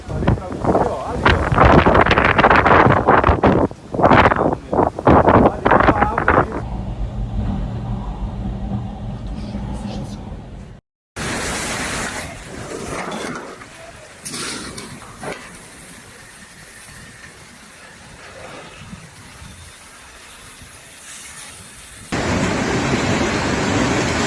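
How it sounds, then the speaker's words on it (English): A violent storm over Sicily, with torrential rain and gale-force wind, sends a loud, continuous roar of gusting air and driving rain that buffets the microphone, shifting in intensity across shots, with voices heard at times. "Torrential rain, accompanied by gales force wind, battered the region"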